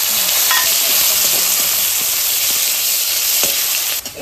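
Ginger, salt and tomato fry in a pan of hot spiced oil with cardamom, cinnamon and cloves, a loud, steady, close sizzle and hiss that runs unbroken with faint stirring clicks.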